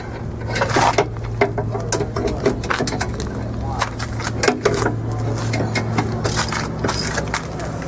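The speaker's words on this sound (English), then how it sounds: "Millimeter socket and ratchet." A socket and ratchet tightening the rear brake bolts on a Mercedes 190, giving quick runs of sharp metallic clicks, close and fairly loud over a steady low hum.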